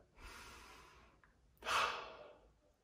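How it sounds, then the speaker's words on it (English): Two slow, deep breaths in a quiet room, a long soft inhale followed after a pause by a louder, fuller exhale that trails off, with no talking. "and take another deep breath."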